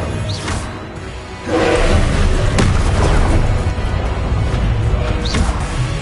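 An Incendio fire spell in Hogwarts Legacy goes off in a loud whooshing, booming blast that bursts in after a quieter moment and keeps rumbling, with sharp cracks scattered through it.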